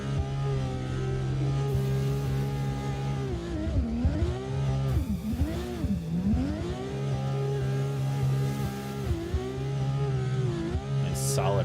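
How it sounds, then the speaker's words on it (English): Drift car engines at a drift competition qualifying at Irwindale Speedway, loud revving with repeated rises and falls in pitch, steady and close throughout. "You can hear those engines roaring."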